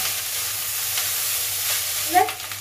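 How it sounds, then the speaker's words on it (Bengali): Fried rice is stirred and mixed in a pan, a loud continuous frying hiss dominating, with a brief scrape near the end and a faint voice in the background. "দিয়ে এবারে ভালো করে এটাকে মেশালে ভাত ভাজা রেডি।"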